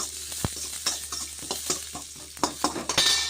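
Onion and garlic sauté in a pan, a steady close sizzle broken by repeated sharp scrapes and clacks of a spoon stirring against the metal, with no talking.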